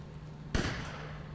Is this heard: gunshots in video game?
yes